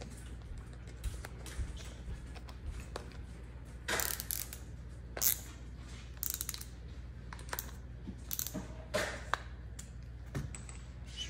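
Allen wrenches tightening a Ulanzi suction mount, giving scattered faint metallic clicks and scrapes with short bursts of ratcheting handling noise and quiet gaps between them.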